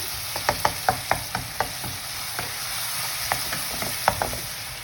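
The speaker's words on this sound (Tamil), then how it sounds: "நல்லா தக்காளி வதங்கட்டும்" Tomatoes sizzle gently in a pan while a spoon scrapes and stirs in irregular strokes, close up, without any talking.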